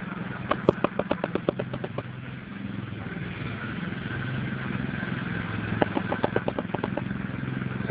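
A small ride-on lawn tractor engine chugs nearby, a steady mid-pitched putter with bursts of rapid clattering pulses early and again toward the end.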